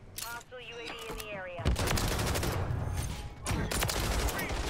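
Gunfire in the video game Modern Warfare 3, a dense burst of rapid shots following a brief whistling tone, loud and close, with a voice over part of it.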